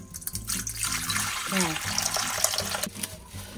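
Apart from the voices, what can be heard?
water poured into bowl for bread dough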